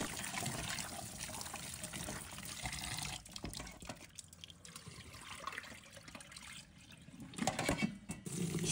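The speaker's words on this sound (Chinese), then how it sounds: "把它们清洗干净，把表面的杂质和灰尘清洗掉" Shiitake mushrooms and small dried squid rinsed under running water for a Poon Choi dish, a steady trickling and splashing stream that swells and dips, close up and alone with no talk.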